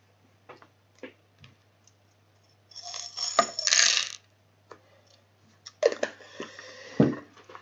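Small divination charms are cast onto a table. They make scattered light clicks and ticks, then two denser bursts of jangling, coin-like clatter as they tumble and settle close by.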